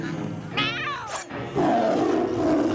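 A big cartoon cat growls and snarls, a loud rough roar rising in pitch, breaking off briefly, then returning as a lower sustained rumbling growl close up.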